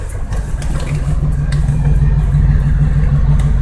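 Car engine idling at about 800 rpm, a loud steady low rumble with an even, throbbing hum and light clatter, close to the engine.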